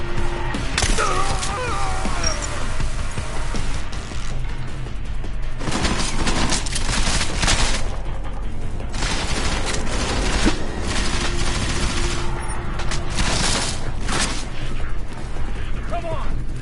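Rapid gunfire in a console video game, dense bursts of shots and impacts packed throughout, loud and continuous, with voices shouting over the battle.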